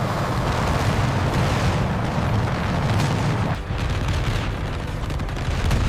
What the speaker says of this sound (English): The sky quickly filled with gunfire and exploding shells.